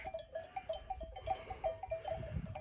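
A flock of sheep in cold rain on open grazing land, with a small bell clinking repeatedly and rhythmically as they move, faint and somewhat distant, with soft rustling and low background noise.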